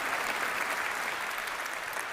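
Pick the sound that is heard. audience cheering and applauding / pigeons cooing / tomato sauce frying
audience cheering and applauding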